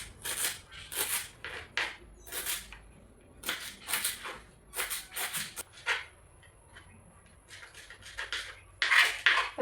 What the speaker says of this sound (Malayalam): തണ്ട് കൂടി ചെറുതാക്കി അരിഞ്ഞെടുക്കാം